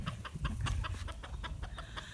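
A backyard flock of chickens, Silkies and Bantams among them, clucks close by in a steady run of short, repeated calls.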